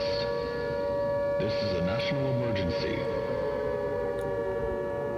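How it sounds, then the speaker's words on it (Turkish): A steady, droning siren wails continuously, loud and unbroken, in a Siren Head horror video game, while a voice speaks briefly over it. "Şu siren sesinden bıktım ya."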